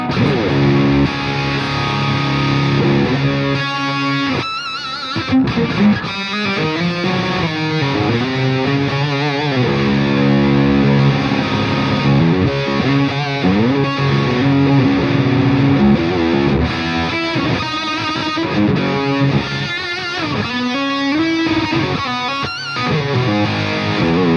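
An electric guitar plays a thick, distorted riff through combined clean and gain amp channels, with chords and single notes, loud and continuous, with brief pauses between phrases.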